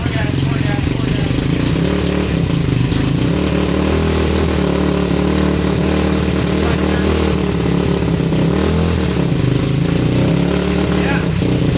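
A 190cc five-speed yard kart engine roars steadily in gear, loud and close throughout, while voices call out over the constant drone.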